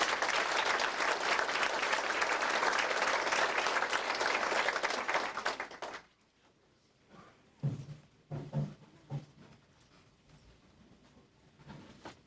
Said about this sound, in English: I'd like everyone in the room to give them a big round of applause.